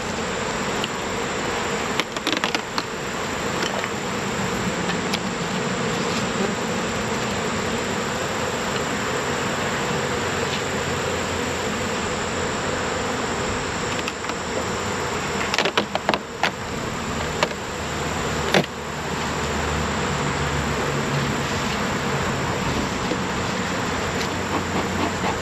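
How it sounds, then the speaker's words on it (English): Honeybees buzzing around a beehive box, a steady dense drone of many insects close to the microphone, with occasional knocks and handling clicks and no talking. "So let's move on to the bee box. All right, over at the bee box now."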